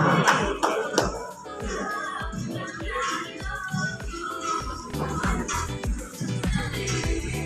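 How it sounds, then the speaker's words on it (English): Audience applause for a group of corporate farmers at an agricultural event in Zamfara State, Nigeria: steady, dense clapping from a crowd over the full stretch, with scattered voices mixed in. "Please a round of applause for Corporate Farmers International"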